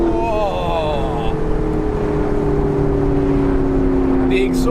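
A McLaren 650S Spider's engine and exhaust hum steadily and smoothly while driving, with a rising whine early on, close and constant throughout.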